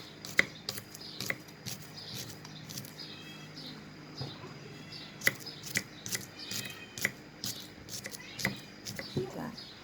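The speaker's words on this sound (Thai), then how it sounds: "หั่นหอมเตรียมเอาไปทอดนะคะ" A knife chops shallots for frying on a board in quick, uneven taps, faint and close, with soft background noise and birds chirping in the distance.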